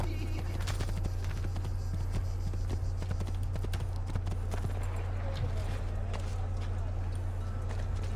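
Horse hooves clatter in a fast, continuous rhythm in Assassin's Creed II, under a low steady rumble with scattered game effects, fairly close and moderately loud.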